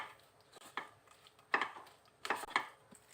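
Grated green mango being tossed with salt and turmeric powder in a bowl, giving soft scraping and light tapping of a utensil in irregular bursts, close and fairly quiet with no talking.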